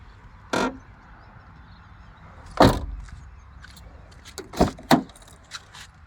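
The left-side door of a 2020 Maruti Swift VXI petrol car is handled, producing a few sharp door clunks and latch clicks with faint jangling, set against a quiet outdoor background.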